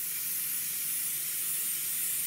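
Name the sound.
airbrush compressor spray gun spraying paint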